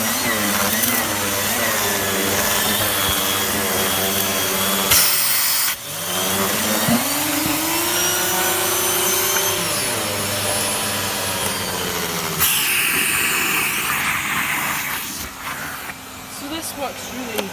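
Miele vacuum cleaner running with a mini turbo brush, a loud continuous whirring whine that shifts pitch as the brush is moved and briefly cut or blocked, with someone talking over it.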